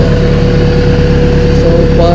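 A Honda Civic EF sedan engine, tuned and fitted with launch control, idles steadily with a constant low hum and faint tonal whine throughout.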